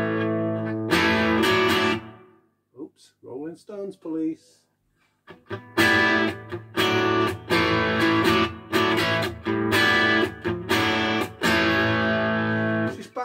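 Telecaster on its bridge pickup through a Victory V44 Plexi amp, with Strymon reverb feeding the amp's front end, rings out in loud, crunchy half-gain chords and riffs. A short spoken pause breaks the playing partway through.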